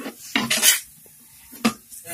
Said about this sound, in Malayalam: നമുക്ക് ഇളക്കിക്കൊണ്ടിരിക്കാം.